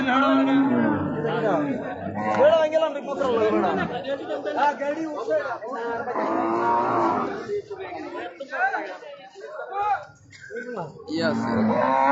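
Cattle at a busy Bangladeshi cow market, including a large bull, with lowing moos mixed into dense crowd chatter and people talking close by throughout.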